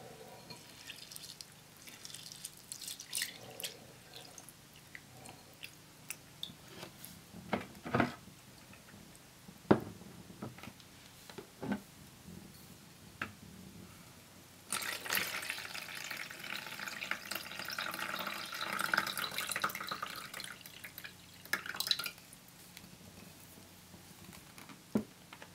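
Water trickles and splashes while rice is washed, with irregular drips and patters that swell into a fuller running stream midway, close and fairly quiet.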